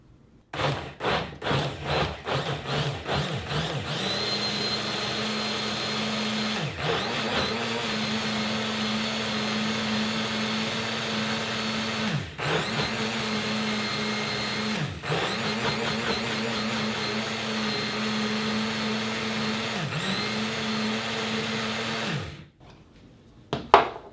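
Blender crushing raspberries with a little sugar into a smoothie, first pulsing in short bursts, then running continuously with a loud steady whine that dips several times as the contents shift, before stopping abruptly.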